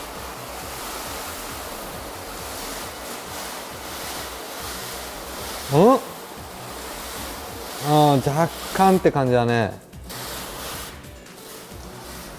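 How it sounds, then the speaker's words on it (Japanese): Water sprayed from a shower nozzle onto a car body during a wash, a steady loud hiss with a voice speaking briefly over it toward the end. "この状態で水をかけていきます。"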